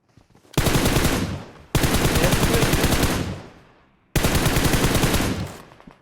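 Three long bursts of rapid automatic gunfire in PUBG Mobile, loud and close, each rattling for about a second or more with short pauses between.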